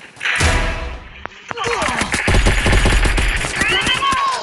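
Bursts of gunfire in the Free Fire mobile battle game, rapid rattling shots and thumping impacts layered over in-game effects, loud and close, running through most of the stretch.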